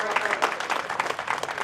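A crowd at a community award ceremony honouring selected students claps to welcome recipients, a brief burst of moderately loud, steady applause.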